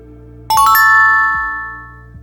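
A BlindSquare navigation app plays a bright, loud multi-note ding-dong chime on approaching a favourite place, ringing out and decaying over about a second with nothing else around it.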